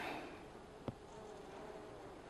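Honey bees hum steadily from an open hive during a brood inspection with an active laying queen, a soft continuous buzz with one brief sharp click partway through, and no voices.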